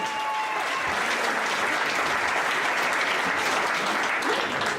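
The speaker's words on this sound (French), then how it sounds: "Donnez un applaudissement pour Tristan, s'il vous plaît." Dense, steady audience applause fills a comedy club, a loud continuous wash of clapping hands with no talk over it.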